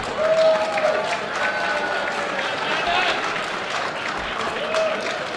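Applause from a gala audience at a Republican club's annual dinner, a continuous wash of clapping and crowd noise with voices mixed in and occasional louder swells.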